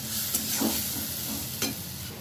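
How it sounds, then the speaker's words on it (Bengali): Spices fried with tomato paste in a pan for a bottle gourd kofta curry, a steady close sizzle broken by a few sharp spatula scrapes and stirs, with no voices. "দিয়ে দিচ্ছি টমেটো বাটাটা। আমি এবার ভালোভাবে মশলাগুলো ভেজে নেব।"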